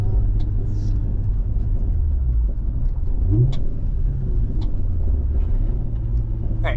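Manual-transmission car engine rumbles steadily from inside the cabin as the driver shifts gears, the revs sagging slightly under continuous road noise, with faint voices in the background.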